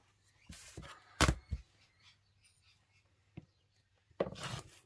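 Quilt fabric strips are cut apart in a few short, close rasping bursts with quiet gaps between them.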